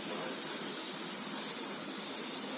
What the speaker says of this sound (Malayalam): നമ്മൾ നേരത്തെ മസാല തേച്ച് വെച്ച ചിക്കൻ എടുത്തിട്ട് പൊരിക്കുകയാണ് വേണ്ടത്.